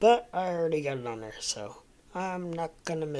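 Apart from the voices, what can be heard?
No everyday noises stand out.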